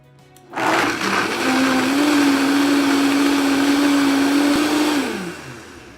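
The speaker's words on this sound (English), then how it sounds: "now we're going to blend it for about 2 minutes straight, just to make sure we get as much almond flavor as possible" Blender whirring through soaked almonds and water for homemade almond milk, motor kicks on loud, holds a steady high whine for about four seconds, then winds down.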